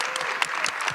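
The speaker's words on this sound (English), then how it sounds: "Please give them a round of applause." Dense audience applause at a school educational panel event, steady many-handed clapping filling the moment with no talk over it.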